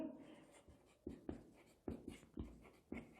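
Chalk or marker writing on a board during a chemistry lecture, with a few short scratchy strokes and taps standing out from faint room noise and no speech.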